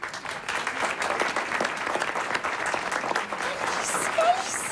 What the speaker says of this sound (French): Sous vos applaudissements.